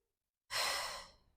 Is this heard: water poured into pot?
no